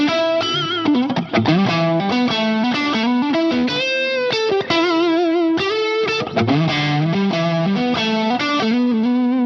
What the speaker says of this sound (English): Add a little echo to that.